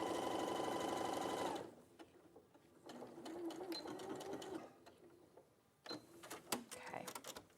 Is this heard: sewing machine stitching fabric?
yes